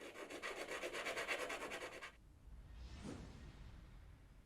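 Carbon fibre edges of a hollow drone fuselage being sanded with a Permagrip wheel and sanding block: about two seconds of fast rhythmic rasping strokes, then a softer single rubbing swipe, close up.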